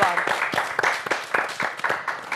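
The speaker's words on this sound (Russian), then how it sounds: "Эти аплодисменты, Вячеслав, вам." An audience at an evening entertainment show gives a short round of applause, brisk clapping close by.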